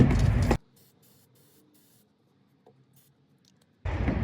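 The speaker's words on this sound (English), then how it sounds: "go ahead and spray your freeze off on it, or your WD-40." Two loud hissing bursts of aerosol penetrating lubricant, one at the start and one at the end, with a quiet stretch of faint rustling between them, during upper heater hose replacement on a Ford Ranger or Mazda B-series.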